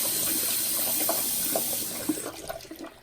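Running water pours and splashes steadily from a tap, with soft squishing and dripping as a makeup sponge is soaked under the stream toward the end.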